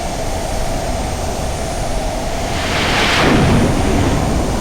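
Jet launched off an aircraft carrier by catapult in Flight Simulator X, a steady loud engine roar that swells into a brief broadband whoosh near the end.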